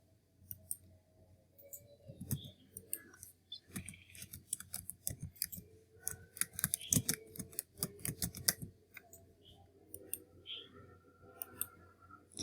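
Computer mouse clicks scattered through a quiet room during form data entry, sharp dry ticks in irregular bursts, some quick doubles, close and moderately loud with no talking.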